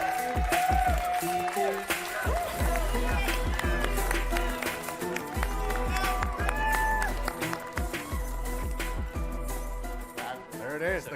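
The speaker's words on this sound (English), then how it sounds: "The crowd loves Juju, right?" Crowd at the EA Play 2019 showcase cheering and applauding for Juju Smith-Schuster, a sustained roar of claps and whoops under loud music and a host's voice.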